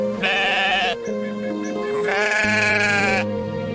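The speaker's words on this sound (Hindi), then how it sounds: "एक काले रंग का लंबे सींगों वाला हट्टा कट्टा बकरा जंगल में आकर चरने" A sturdy black goat with long horns grazing in a forest lets out loud, wavering bleats, several quavering cries in quick succession with no other sounds.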